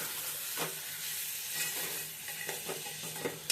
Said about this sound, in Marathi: ही सगळी पातेल्यात टाकून झाल्यावर आपण ती परतून घेऊयात आणि गॅस मध्यम आचेवर ठेवूया